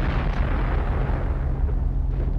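Artillery shells explode on the Dunkirk beaches, a heavy sustained rumbling boom filling the whole clip with deep, loud, continuous blast noise.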